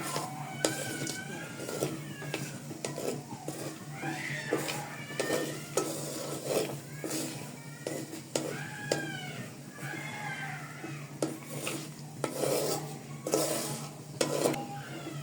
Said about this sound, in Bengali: এখন আমি এগুলোকে হালকা করে ভেজে নিব।